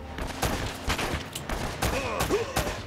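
Rapid gunshots ring out in the Uncharted video game, a fusillade of sharp cracks firing in quick, uneven succession at close range and fairly loud, with some background game noise between the shots.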